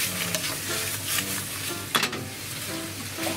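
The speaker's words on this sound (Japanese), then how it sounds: "追いバターとお醤油、 これはねフライパンの縁にちょっと焦げた感じで焦がしたのを最後絡めます" Giant scallops with butter and soy sauce sizzle steadily in a frying pan, a constant close crackle broken by stirring scrapes and one sharper clack midway.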